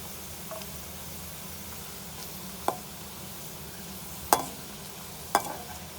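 Ground red chillies sizzle in hot oil as a tempering for kadhi pakora, a low steady fizz broken by three sharp clinks of a spoon against the pan.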